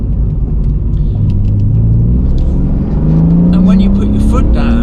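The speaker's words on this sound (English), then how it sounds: "When you put your foot down, this car really goes." A BMW M Coupe accelerates hard, its engine note rising steadily from a deep rumble to a higher growl, loud and close as if heard from inside the car.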